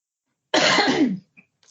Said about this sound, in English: I was trying to leave a nice editing pause for that cough for you.